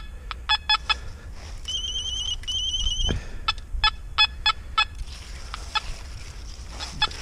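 An Anfibio Multi metal detector sweeping over iron and tin gives repeated short electronic beeps in irregular bursts, with a few longer warbling tones among them, over a faint rustling background.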